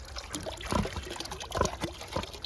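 Water trickles and dribbles in an uneven run of small pours on a snowy West Virginia farm in winter, fairly close and alone, with wind noise underneath.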